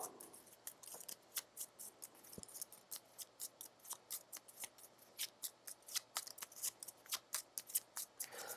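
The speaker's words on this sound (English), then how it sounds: "I have to shuffle all my decks while I think about what to do with the brute." Decks of Gloomhaven board game cards being shuffled by hand, heard as a steady run of crisp, sharp snaps and flicks, several per second, close and fairly quiet over a soft room hush, with no talking.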